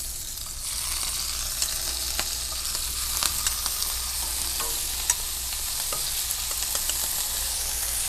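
Shrimp sizzle and fry steadily in a pot, a continuous crackling hiss with scattered sharp pops and light stirring clicks throughout, close and fairly quiet.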